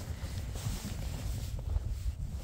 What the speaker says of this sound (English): That wind is not nice, though.